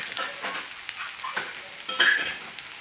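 Wine pours into a hot pan of sizzling stuffed mushrooms and snails, producing a bright, close frying hiss with stirring scrapes and a sharper burst of sizzle as the liquid hits.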